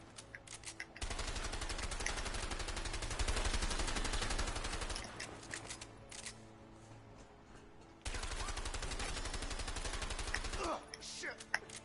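Sustained bursts of automatic gunfire from the video game A Way Out, loud and dense for several seconds, pausing, then resuming, with game music and brief voices in between.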